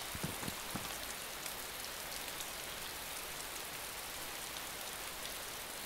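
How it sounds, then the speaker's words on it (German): Steady rain pattering in the video game DayZ, a dense even hiss of drops on surfaces with a few sharper drip ticks near the start, moderately quiet and continuous with no talk. "Scheiß Regen, da wird man nass und da wird man krank"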